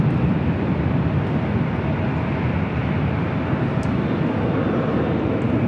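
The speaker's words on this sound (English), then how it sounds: "Next arrival here on the north side is Delta Airlines Flight 2096 coming in from New Orleans" A Delta Airlines Boeing 737-900ER arriving at LAX from New Orleans gives a steady, loud broadband engine roar that holds evenly throughout, with no voices.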